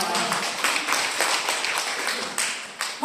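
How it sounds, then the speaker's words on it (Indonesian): Audience applause in a hall, a steady wash of many hands clapping at close-to-moderate distance, with a few louder bursts standing out. "Ya, tepuk tangan dulu dong buat kawan."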